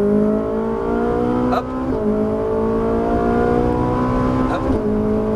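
A Ferrari 458 Italia on a race track in Las Vegas, its engine droning loud and close with a steady rising pitch as it accelerates, while an instructor briefly speaks over it.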